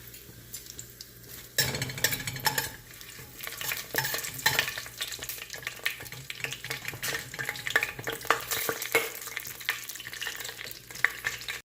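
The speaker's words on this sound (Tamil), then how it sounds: "பட்டை, கிராம்பு, ஏலக்காய் இதெல்லாம் சேர்த்துடலாம்." Whole cinnamon, cloves and cardamom crackle and sizzle in hot oil in a pressure cooker for mutton gravy, with a spoon stirring and scraping against the metal in a busy, continuous close-up.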